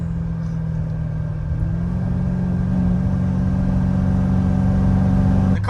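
A 900 whp C7 Z06 Corvette with a boosted engine idles with a loud, deep, steady rumble close by, its tone stepping up slightly as it revs toward the end.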